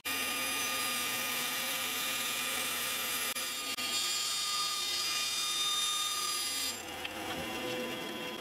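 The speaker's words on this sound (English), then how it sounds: "over to the bandsaw" A bandsaw runs steadily, cutting a guitar neck piece down thinner, a continuous loud buzzing whine with a slight shift in pitch near the end as the blade works through the wood.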